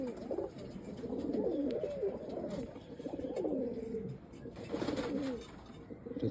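A pair of Kaldama pigeons coo close by in repeated soft, rolling phrases, with faint rustling and background hiss.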